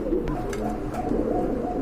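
Pigeons offered for sale at a Bangladeshi pigeon market coo steadily in a low, continuous murmur, with soft calls overlapping throughout and no voices.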